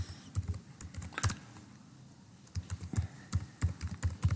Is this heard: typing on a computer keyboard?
yes